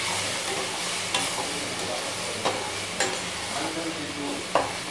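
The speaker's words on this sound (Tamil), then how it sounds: "அடைச்சி ஊற்றி நல்லா இந்த மாதிரி நல்லா கிளறி விடுங்க." Beaten egg sizzles and fries with chopped spinach greens in a pan for a poriyal, with a constant crackling hiss and a few sharp scrapes of a spatula stirring it; moderately loud and close.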